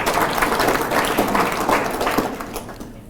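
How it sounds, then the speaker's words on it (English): An audience at a Jamhuri Day celebration in Minnesota gives a round of applause: dense, steady clapping from a crowd that holds strong throughout and tapers slightly at the very end. "So, round of applause, man, we're doing well."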